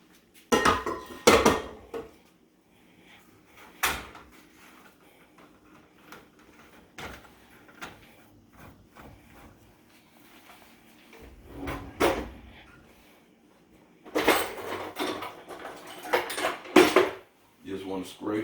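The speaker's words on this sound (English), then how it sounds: "I'm gonna make sure I scrape this whole bottom of this real quick" A spatula scraping and knocking against the bottom of a baking dish while making a cookie cake, in short irregular scrapes and clatters, with a person talking between them.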